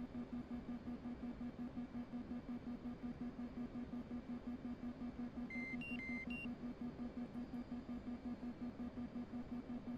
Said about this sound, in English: Besides the fact of the beeping noise.